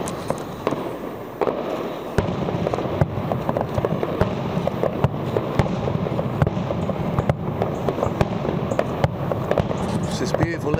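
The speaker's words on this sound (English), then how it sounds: "You can hear fireworks going off in the background." Fireworks pop and crackle in a city park in Castellón, a busy run of sharp bangs scattered irregularly over a steady background rumble, moderately loud and somewhat distant, with talk mixed in.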